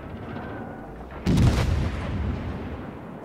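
Naval gunfire from the cruiser Buffalo in World of Warships sounds as a single loud, booming artillery blast that rolls on briefly into a lingering rumble over ambient game noise.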